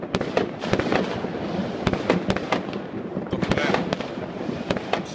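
New Year's Eve fireworks in Slovakia in 2014 crackle and pop in dense, continuous bursts at a distance, with sharp bangs scattered throughout and voices murmuring beneath.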